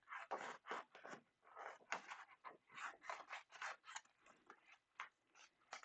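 Scissors cutting paper for a craft project: a quick, even series of about twenty crisp snips, close and clear with short gaps between them, and no talking.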